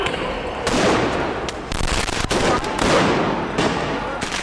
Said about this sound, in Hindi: पुलिस पर पटाखों से हमला